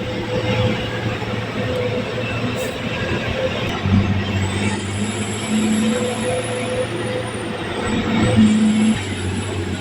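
Vehicle climbing a steep paved mountain road, its engine droning steadily and loudly with a continuous low rumble and a rising, falling whine as it pulls uphill.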